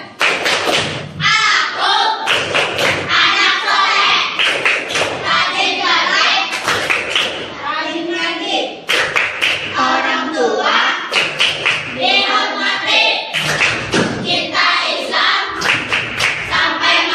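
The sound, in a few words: class doing rhythmic clapping chant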